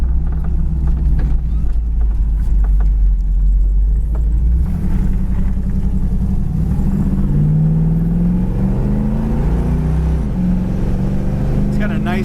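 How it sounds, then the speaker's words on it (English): A 1973 Camaro Z28 roars loudly as it accelerates from about 50 mph and kicks down into second gear, the engine rumble climbing steadily in pitch with talk running underneath. "Stomp it down, shifts right down into second."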